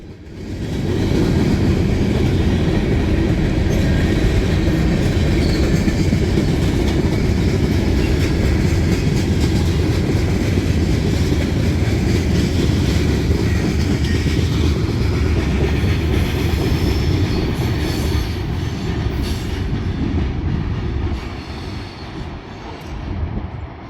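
D&H train 11R rolls loud and close onto the siding at CP 587, a dense continuous roar of wheels and cars that eases slightly toward the end, with no one speaking.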